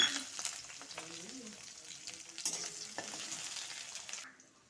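Chopped onion, chilli and nigella seeds fry quietly in hot oil in a kadai, giving a soft sizzle with scattered stirring scrapes and clinks. The frying stops near the end.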